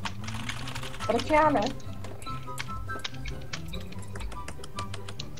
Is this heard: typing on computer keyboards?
yes